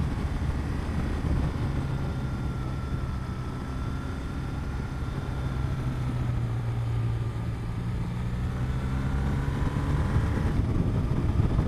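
A 2015 BMW R1200R motorcycle braking to a stop using engine braking and its brakes, heard as a steady engine drone with a falling pitch as the bike slows, with wind noise around it and no talk.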